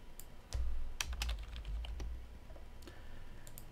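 Soft keystrokes on a computer keyboard tap out a short burst of typing, with irregular clicks close up and quieter pauses between them.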